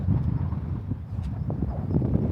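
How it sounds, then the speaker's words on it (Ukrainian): Low, rumbling wind buffets the microphone steadily at Burn O'Vat in Cairngorms National Park, Scotland, a blustery roar with occasional gusts and faint knocks underneath. "Ой, який вітер."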